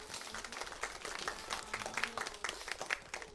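Church congregation at a Sunday worship service clapping, a quiet, fairly distant patter of scattered hands with uneven rhythm throughout.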